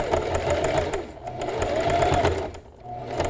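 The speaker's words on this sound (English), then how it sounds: "I'm just gonna sew this a second time." Sewing machine running fast and close while stitching scrap fabric into a structured pod, a rapid mechanical chatter that dips briefly twice before resuming.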